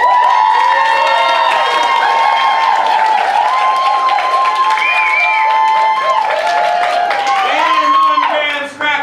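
An audience at a school improv show claps and cheers loudly to vote for a player, with shouts and whoops rising over continuous applause until it fades out near the end.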